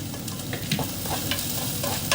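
Garlic sizzles and fries in a pan with onion, a steady close crackle broken by scraping stir strokes of a utensil, for a cabbage dish with meat.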